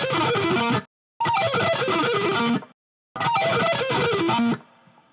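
Electric guitar playing fast sweep-picked 2:1:2 arpeggios, three bright, distorted bursts of rapid note runs separated by short silences, loud and alone.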